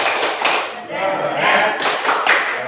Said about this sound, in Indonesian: Tepuk tangan untuk guru Husni.